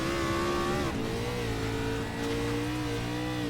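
A race car in an SMR X Series event at Bathurst screams past at high speed, its loud engine note holding steady then dropping sharply as it shifts, followed by a sustained high-revving drone.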